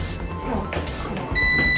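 A Gourmia GFD1950 food dehydrator gives a single sustained electronic beep as it is switched on, clear and close, after a moment of handling noise.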